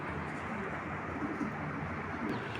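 Pigeons coo softly at a Bangladeshi pigeon sale featuring Army and Chila breeds, a steady low murmur of overlapping calls filling the space, nearby and continuous with no talking.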